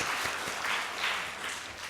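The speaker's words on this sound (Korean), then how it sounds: "하나님께 영광의 박수 올려드리도록 하겠습니다" A church congregation at a Sunday morning service gives steady, dense applause for the praise team, a continuous wash of many hands clapping at moderate distance, with no talk over it.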